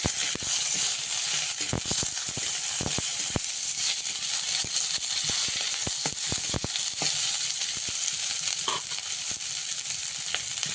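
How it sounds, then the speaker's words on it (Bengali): Chopped onions sizzle loudly in a pan of oil seasoned with bay leaf, a constant hiss broken by frequent clicks and scrapes from stirring, close up with no voices. "এবার দিয়ে দেবো পেঁয়াজ কুচি, একটু নেড়ে চেড়ে নিচ্ছি।"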